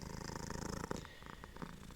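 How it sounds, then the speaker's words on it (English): A pet cat purring right up against the microphone, a loud, rumbling, rhythmic purr with a fast pulse, close and intimate, briefly interrupted by a small bump before the purring continues on its own. "he's pretty close to the microphone, so I'm sure his purring is quite loud."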